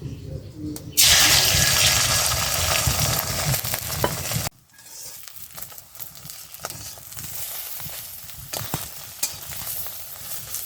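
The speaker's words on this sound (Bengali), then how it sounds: "তেলটা গরম হয়ে গেছে ডিমটা দিয়ে দিই" An egg drops into hot oil in a pan and bursts into a loud, bright sizzle that crackles on for a few seconds, then cuts off to quieter kitchen clatter and faint talk.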